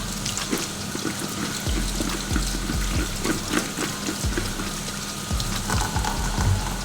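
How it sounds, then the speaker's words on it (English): Running tap water rinses potatoes in a colander at a kitchen sink, a steady close splashing and pattering with irregular knocks of potatoes shifting, continuous throughout without talk. "so you're gonna rinse your potatoes off, just some basic water"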